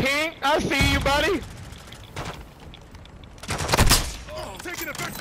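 In Call of Duty: Modern Warfare II, gunfire cracks in a few sharp, scattered bursts, one louder volley standing out, between stretches of quieter background after a voice speaks at the start.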